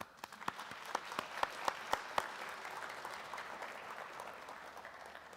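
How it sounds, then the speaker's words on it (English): Students at a college engagement awards ceremony clap for their supporters, a steady wash of applause from a hall full of people with a few sharp, close hand claps standing out early on. "And students, this is your opportunity to clap for your proud supporters."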